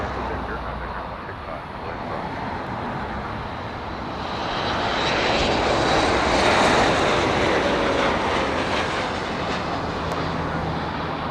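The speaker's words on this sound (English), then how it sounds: "Yes, beautiful A350 out of here." Airbus A350 taking off at LAX airport, a broad roaring jet engine rumble that swells to a peak midway and stays loud, steady and distant.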